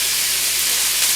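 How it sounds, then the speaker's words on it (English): Sliced mushrooms cooking in butter in a pan for a cheesesteak sandwich. A steady, close sizzle hisses evenly for a short moment, with no voices. "mushrooms cooked in butter"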